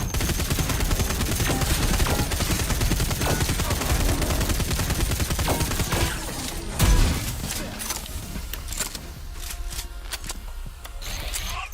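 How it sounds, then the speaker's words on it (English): Rapid machine gun fire in the Wrack: Reclamation shooter rattles on loud and continuous for several seconds, then thins into scattered shots and impacts. "machine gun."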